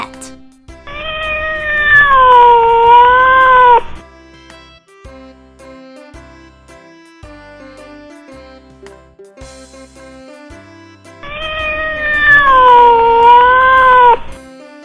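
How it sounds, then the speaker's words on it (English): A domestic cat meows twice, loud and close, each call a drawn-out wavering cry lasting about three seconds, separated by a stretch of light backing music. "Cat."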